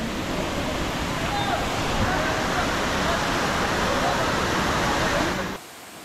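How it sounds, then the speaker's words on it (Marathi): A large waterfall at Ratangad fort in the Sahyadri hills roars with a loud, steady, unbroken rush of falling water that drops off sharply near the end. "तर हा वॉटरफॉल एवढा मोठा आहे, एक नंबर आहे."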